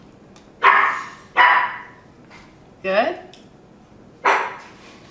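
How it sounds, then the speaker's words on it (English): Several dogs bark in sharp, separate bursts, four loud barks spread across a few seconds with short gaps between them, alongside a brief spoken word in a kitchen setting. "sorry for the dogs"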